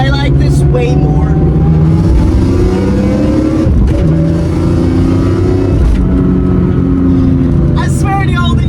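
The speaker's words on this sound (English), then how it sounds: "I love rev matching this car" BMW E46 M3 engine revving during rev-matched downshifts, loud and close from inside the car, with sustained engine drone broken by sharp blips around two, four and six seconds and talk over it.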